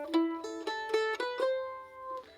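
A mandolin plays the opening measure of a jig, a quick run of about six bright plucked notes in a lilting rhythm, quiet and close, with the last note ringing out.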